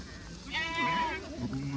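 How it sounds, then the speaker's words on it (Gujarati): Goats and sheep bleat on a farm field, a single loud wavering bleat up close followed by fainter calls, with a person talking nearby. "કે તો બકરો આવી ગયા"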